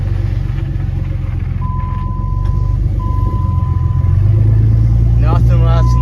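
Cheap Cummins diesel truck engine running in a smoky barn after its power steering pump failed, a loud steady low rumble throughout with intermittent electronic beeps and brief voices near the end.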